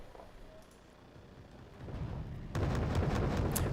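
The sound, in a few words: artillery strike explosions in a video game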